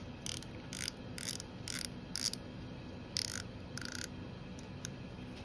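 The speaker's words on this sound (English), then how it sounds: "Tighten it all down with the drag knob." A spinning fishing reel's drag knob is tightened down, giving a series of short ratcheting clicks in irregular bursts, faint and close, with no talking.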